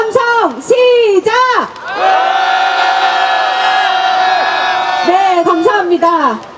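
A crowd at an outdoor press conference opening a homeless memorial week lets out a loud, sustained cheer and shouts, with talk before and after it.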